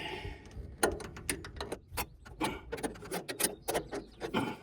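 Battery carriage bolts being worked loose on a 1931 Ford Model A pickup, a close series of irregular metallic clicks, taps and ratcheting scrapes from a wrench in a cramped space.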